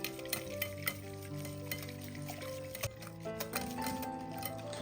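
A cup of yogurt is stirred in a bowl, giving soft rhythmic scrapes and light clinks of the spoon, faint and partly buried under steady background music.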